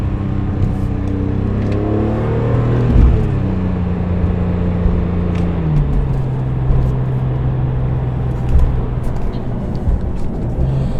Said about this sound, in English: we're gonna drive the car around just a little bit